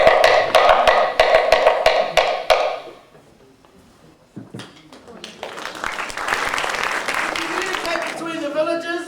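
Sharp hollow knocks from a wooden log drum struck with a stick, in a quick, steady rhythm for a few seconds, then stop; after a pause a crowd begins clapping at a Māori dance performance.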